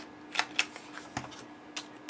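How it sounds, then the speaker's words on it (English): A corner chopper punch rounds the corners of a paper craft piece and mat, giving several sharp, clipped snaps spaced irregularly, close and fairly quiet with no talking. "going to take my corner chopper and round the corners on the bottom"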